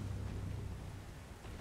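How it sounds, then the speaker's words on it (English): A lightning attack in Elden Ring during a battle with General Radahn lands as a dense, thunderous crackling rumble that roars steadily for the whole short moment, with no voices. "Definitely lightning."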